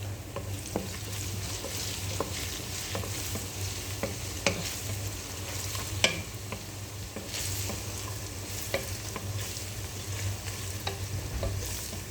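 Garlic fries in hot oil in a pan and is stirred: a steady sizzle runs throughout, broken by regular scraping stirs at moderate loudness with no talking.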